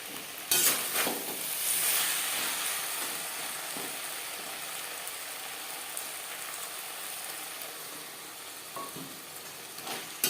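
Flat beans cooking with spices in a pan over a high-to-medium flame, giving a steady sizzle and frying hiss with occasional stirring scrapes, close and moderately loud throughout.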